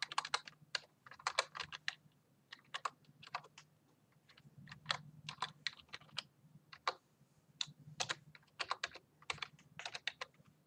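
Someone types on a computer keyboard, entering an email address: quick bursts of crisp close key clicks separated by short pauses, with no voices.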